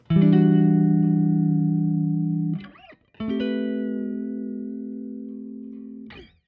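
Two long sustained low notes from a Bass VI guitar with the strangle switch off, each ringing several seconds and fading slightly, separated by a brief string scrape.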